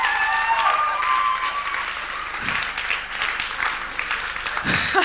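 Enthusiastic audience applause at a TEDx talk, dense steady clapping from a large crowd that fills the room for several seconds, fairly loud and continuous.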